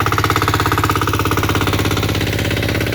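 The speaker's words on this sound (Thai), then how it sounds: "มารีวิวเครื่องสูบน้ำดีเซล14 แรงนะผมดูด3ออก3นะผ" A 14 horsepower diesel water pump engine with 3-inch suction and outlet runs close and loud, its rapid, even chugging pulses repeating steadily throughout.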